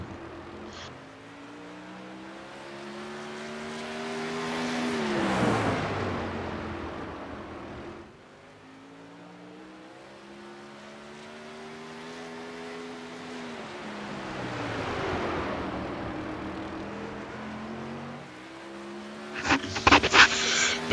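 A silver crown race car on a qualifying lap at Kern Raceway in iRacing, its engine droning and rising and falling in pitch as it passes twice, with a louder burst of noise at the very end.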